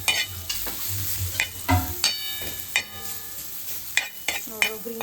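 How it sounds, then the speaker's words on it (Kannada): Tadka tempering with green chillies frying in hot oil, a steady sizzle with repeated stirring scrapes and occasional utensil clinks, close and fairly loud throughout. "ಅಂದ್ರೆ ಚಲೋ ತಡ್ಕ ಕೊಡ್ತೀವಿ."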